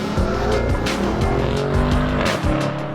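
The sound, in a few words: BMW M850i xDrive Convertible V8 engine and tire squeal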